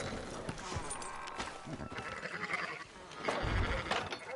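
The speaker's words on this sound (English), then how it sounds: "Fine sheep." Sheep in Red Dead Redemption 2 bleat a few times amid shuffling hooves and clattering, with wavering animal cries rising and falling close by.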